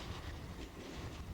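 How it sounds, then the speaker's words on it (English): A train hauled by restored New York, Ontario and Western NW2 diesel switcher number 116 rolls past steadily, wheels and cars rumbling low and fairly faint with no talk. "This engine really is the original O&W 116."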